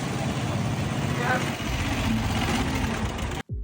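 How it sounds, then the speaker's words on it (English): A steady engine drone runs throughout from generators on tour boats idling nearby in El Nido, dense and unbroken until it cuts off abruptly near the end. "all you can hear is the sound of generators"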